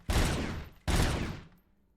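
RoboCop's gun firing in Robocop: Rogue City: two heavy, booming shots a little under a second apart, each followed by a long reverberant tail that fades into silence.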